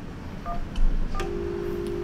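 Telephone keypad tones beep in a short sequence as a call is placed, a few distinct dial tones, the last one held, over a steady background hum.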